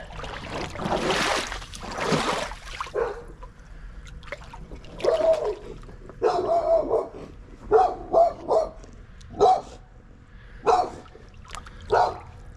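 A dog barks in short single bursts and pairs beside an Alabama creek, spaced irregularly through the stretch with trickling water underneath and no talk.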